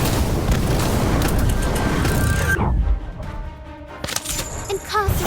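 An Incendio fire spell cast in the Harry Potter: Magic Awakened game, a loud whooshing fiery burst that roars for a couple of seconds then cuts off abruptly, followed by quieter game chimes and tones.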